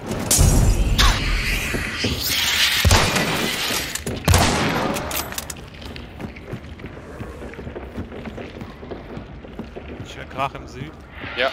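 Gunfire in the video game Hunt: Showdown: several loud, sharp shots and booming impacts in the first few seconds, followed by quieter game ambience with faint clicks while players talk.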